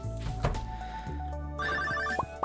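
A telephone rings inside the Stardew Valley video game, a bright electronic ring pattern with repeated tones over game music, fairly loud and steady for a couple of seconds.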